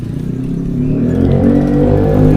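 A motorcycle passes on a road in Apalit, with a loud, close engine drone that swells steadily as it approaches.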